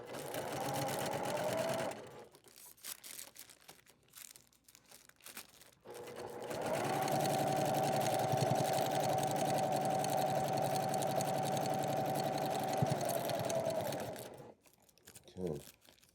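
A sewing machine runs a long steady stitching burst while joining the two halves of a spider web quilt row, with a shorter burst at the start and quiet handling in between.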